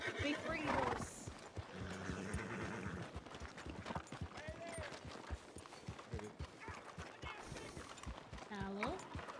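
Horse in a video game whinnying with clip-clopping hooves, several short neighs and trotting steps mixed under ongoing conversation, moderately quiet.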